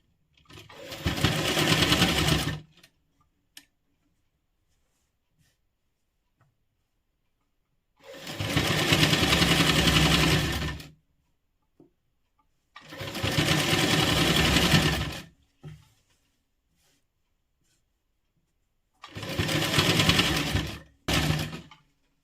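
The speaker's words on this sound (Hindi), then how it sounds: "हम इसमें भी हम ये मार्जिन ऊपर रखते हुए किनारे वाली सिलाई लगाएंगे" Sewing machine stitching an edge seam along a frill (jhalar) design: four separate loud, steady whirring runs of a few seconds each, split by near-silent pauses with faint handling sounds.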